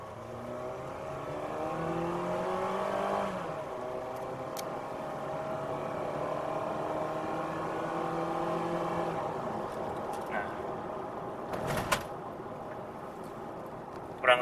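Mitsubishi Xpander Cross Premium automatic (2020) accelerating hard on kick-down with stability control off, engine note rising steadily in pitch as it revs, then easing and climbing again after a shift, heard from inside the cabin.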